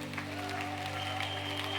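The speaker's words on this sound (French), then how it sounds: "Est-ce que vous pouvez applaudir pour ce couple?" A church congregation applauds a couple, a steady wash of clapping from many people under a sustained droning organ or keyboard tone.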